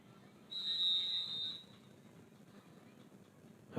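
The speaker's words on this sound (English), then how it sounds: "There's the whistle telling them to get back on the field." A single sharp referee's whistle blast at a high school football game, lasting about a second against quiet background crowd noise.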